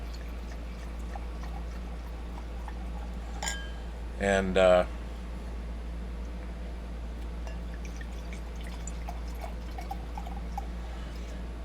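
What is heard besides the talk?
red wine (Pinot Noir) being poured into a glass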